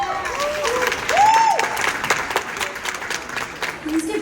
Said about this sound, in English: Please give Bubbly Dance Studio a huge round of applause.